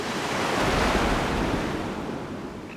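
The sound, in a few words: Indian Ocean waves breaking on reef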